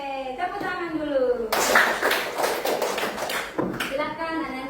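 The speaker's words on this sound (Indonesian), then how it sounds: "Oke, tepuk tangan dulu." A class of children claps their hands in a dense burst of applause lasting about two seconds, with an adult voice talking just before and after.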